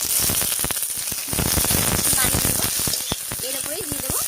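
Chopped garlic leaves hit a pan of onion, garlic and green chilli already frying in oil, producing a loud, close, continuous sizzle broken by sharp crackles and the clatter of stirring.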